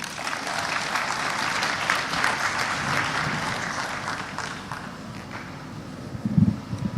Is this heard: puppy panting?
no